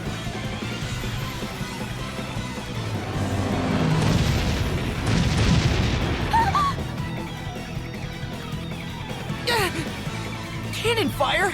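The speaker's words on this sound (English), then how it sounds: "Cannon fire? This is madness!" Cannon blasts boom in a battle scene from the video game Bravely Default, a swelling run of heavy, rumbling explosions mixed with crashing debris amid game music, voices and sound effects around them.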